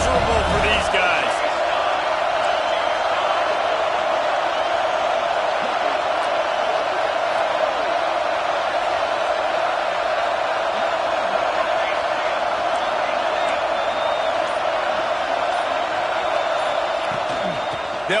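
Steady roar of a stadium crowd at a college football video game featuring a maize-and-blue team, loud and constant throughout with a broad wash of noise and no speech.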